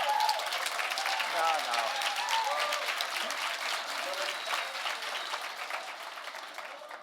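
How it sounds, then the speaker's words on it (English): An audience at the Aspen Ideas Festival Young Adult Forum gives the governor a round of applause, a dense, sustained clapping that slowly fades, with a voice talking over it. "Everyone stand up and let's give the governor a round of applause."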